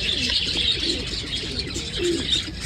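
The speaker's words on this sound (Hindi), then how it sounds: "पिजन है आई गेस, हाँ पिजन कबूतर है।" Birds calling steadily outdoors at a hotel in Aurangabad, India, with soft pigeon coos rising now and then beneath a bright, constant chirping background.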